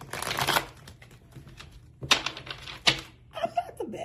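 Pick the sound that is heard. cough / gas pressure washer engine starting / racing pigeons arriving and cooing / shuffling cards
shuffling cards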